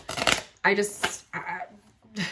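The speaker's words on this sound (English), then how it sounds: "So I love to shuffle my cards" A short burst of tarot cards being shuffled, followed by someone talking close by.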